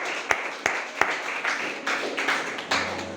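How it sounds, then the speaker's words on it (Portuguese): Applause from a church congregation, with a few sharp close claps standing out over a continuous background of many hands clapping. "Aplaudo o Rei, bem forte, em nome de Jesus."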